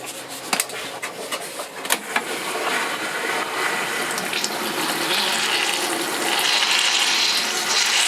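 An RV toilet, in a Geo Pro 19FBS trailer being winterized with a Camco pump converter, flushes with a steady rushing of water that builds and continues for several seconds, close and fairly loud, with a few clicks at the start.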